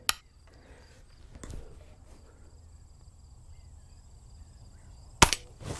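A 150-year-old Flobert Cadet .22 rifle cracks with a sharp shot at the start, a softer snap follows, and another sharp report comes near the end, with crickets chirping faintly outdoors throughout.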